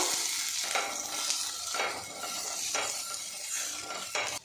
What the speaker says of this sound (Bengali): এবারে এর মধ্যে নাস্তাগুলো দিয়ে দেব একটু উল্টে পাল্টে নাড়াচাড়া করে নেব